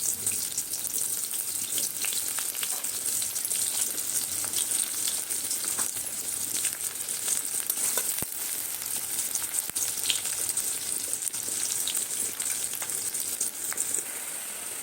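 Onions frying in hot oil in a pan for an Odia fish curry, a continuous bright sizzle with scattered crackles and small clicks that holds steady throughout, with no voices.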